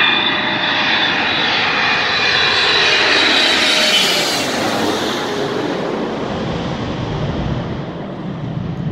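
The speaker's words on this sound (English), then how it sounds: "awaiting the Southern Air Cargo 777-200LR freighter" A Boeing 777-200LR cargo freighter roars in on approach to LAX runway 25 right, a loud continuous broadband jet engine rush that swells to a peak overhead and slowly fades, with no voices.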